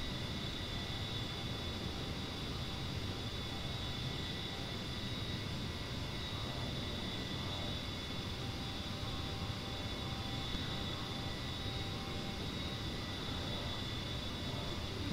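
An A-10 Warthog jet engine drones steadily in the DCS flight simulator, a constant loud roar with a high whine, unbroken and with no talking.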